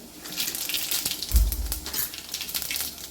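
Mustard seeds and cumin frying in a few spoonfuls of hot oil for a potato bhaji give a steady, close sizzling hiss with crackling and one louder low thump partway through.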